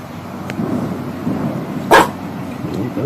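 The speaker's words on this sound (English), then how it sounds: "The dogs are barking at it." Dogs bark outdoors in reaction to unexplained loud booms, one sharp, fairly close bark standing out over a steady low background hum, with faint fainter yips around it.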